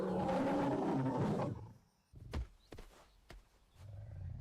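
A male lion in the African wild gives a loud, rumbling roar that then breaks off, followed by a few close thuds and shuffling sounds, with no voices present.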